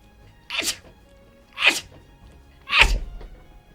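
Three sharp sneezes spaced about a second apart, each a quick breathy burst, close and fairly loud against a quiet background with no talking.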